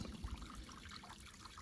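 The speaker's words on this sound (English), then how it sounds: "looks like another good water source. It's flowing slowly" Soft, gentle trickling of a slow-flowing stream on the Buffalo River Trail, a quiet continuous babble heard close up without voices.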